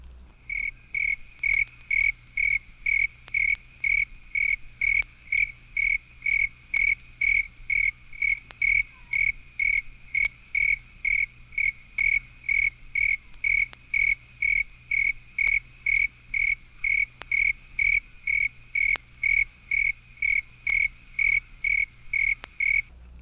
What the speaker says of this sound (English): Frequently several individuals will be heard singing at once, their songs perfectly synchronized.